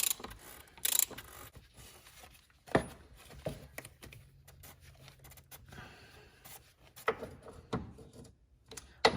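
A 27mm socket on a ratchet loosens the oil filter housing of a BMW 328d F30 diesel, giving scattered close clicks and knocks among handling noises with no talking.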